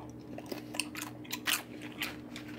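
Homemade potato chips, slightly burnt, are crunched between the teeth close up, several sharp crisp bites and chews in quick irregular succession over a faint steady hum.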